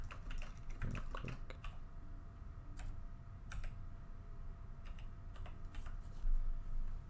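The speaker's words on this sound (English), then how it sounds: "We type in the CAPTCHA." Typing on a computer keyboard comes as bursts of quick clicks with short pauses between them, close and clear above a low room hum.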